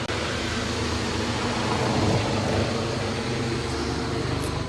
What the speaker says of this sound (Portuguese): o helicóptero passando, consegue escutar?